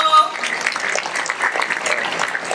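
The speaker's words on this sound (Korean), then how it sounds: "한번 뜨겁게 환영의 박수 한번 해주시기 바랍니다" A church congregation at a Sunday service claps to welcome a couple about to marry, a short burst of applause that mixes with a voice.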